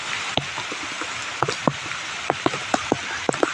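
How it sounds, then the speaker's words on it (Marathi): Heavy rain pouring close by with a steady broadband wash, irregular sharp drips and splashes cutting through; no waterfall roar stands apart from the rain noise. "पाऊस एवढा आणि धबधब्याचा आवाज एवढा असल्यामुळे आवाज पोचत नाही"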